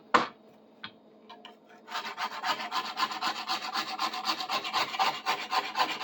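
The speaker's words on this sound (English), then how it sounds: "There's a good scrape. We'll hit it with some sandpaper." Sandpaper rubs back and forth along a rusty rip saw blade during restoration, a close rasping scrape in steady rhythmic strokes after a few scattered taps and knocks at the start.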